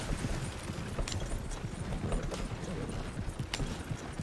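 Steady clip-clop of a horse's hooves in Red Dead Redemption 2, a continuous walking-to-trotting rhythm heard up close over low game ambience.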